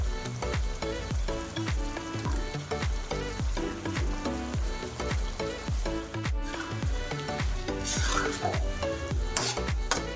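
Fried tuna and tempe tossed in a wok of Acehnese sambal: a spatula knocks against the pan in a quick, regular rhythm over continuous close sizzling.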